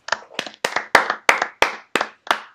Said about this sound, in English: Let me just clap him.